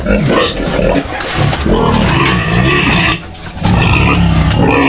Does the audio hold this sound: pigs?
yes